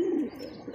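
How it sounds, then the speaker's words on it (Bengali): A single short coo from an Iranian Barhama pigeon kept in a loft, close and clear, a low throaty note that fades quickly with no talking. "ইরানি একটা বারহমা কবুতর"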